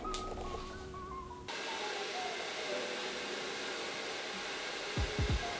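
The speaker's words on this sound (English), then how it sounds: "And then I'm just gonna blow dry my hair really quickly." Steady, loud whooshing roar of a hair dryer blow drying freshly dyed hair at home, a continuous airflow with a shift in tone early on and brief low thumps near the end.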